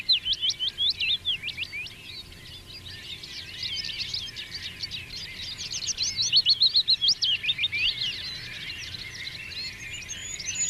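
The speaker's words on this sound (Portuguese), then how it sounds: "O som é o sinal ideal para os pássaros" Several birds sing and chirp continuously, a dense chorus of high, rapid trills and tweets at moderate volume with no voices.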